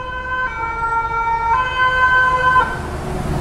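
An ambulance siren sounds along an urban street, its rising and falling wail loud and close over road traffic rumble for about three seconds before it cuts out, leaving the traffic noise.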